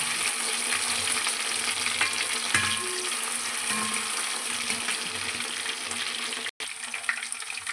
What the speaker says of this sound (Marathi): आपण थोडं थोडं करून तेलामध्ये बघा असं आता एक साईडला भाजलं तर दुसऱ्या साईडला पलटून घेऊया छान.